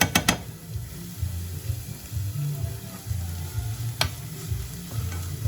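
Sauce for white beans simmering in a pan during home cooking of a Réunion dish, a steady low bubbling sizzle with a few sharp utensil clicks near the start and around four seconds, no talk.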